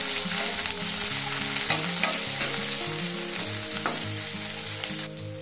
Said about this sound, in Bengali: এটা 2-3 মিনিট একটু ভেজে নিতে হবে।